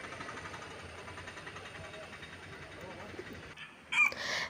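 Chickens gather by the road near a synagogue. A low outdoor hum runs throughout, then a rooster's crow bursts out loudly and close near the end.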